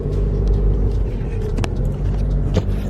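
Car driving in slow traffic through a tunnel, a loud, continuous low rumble of engine and road noise filling the enclosed space, with a couple of brief sharper knocks.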